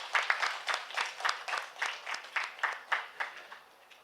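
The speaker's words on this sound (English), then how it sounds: "A big round of applause for the speakers." Applause from a small auditorium audience at an HR summit, honoring panel speakers: a thin patter of separate claps with an uneven rhythm that gradually fades toward the end, heard with no one speaking over it.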